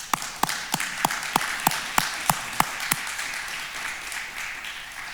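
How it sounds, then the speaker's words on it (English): A lecture audience gives a round of applause for Fred Kahn at an engineering ethics lecture: a regular run of sharp claps rings out and fades after about three seconds, leaving a quiet room tone. "I'm going to ask you to join me in a round of applause for Mr."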